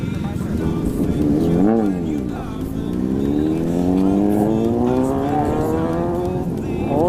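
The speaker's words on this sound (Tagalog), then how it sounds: "Big bike." Big 400 cc motorcycle passing close by, its engine rising in pitch as it revs and accelerates, loud and sustained, with a voice talking at the same time.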